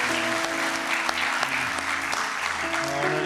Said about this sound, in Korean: 우리 하나님께 감사와 영광의 박수 한번 올려드리겠습니다.